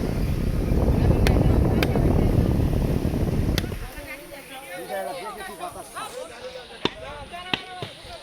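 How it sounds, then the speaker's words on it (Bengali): A loud, steady rush of air from a close fan run on a pesticide sprayer's battery for several seconds, then it cuts off, leaving someone talking nearby with a few sharp clicks. "এই ব্যাটারি দিয়ে এই ফ্যান চালাচ্ছে"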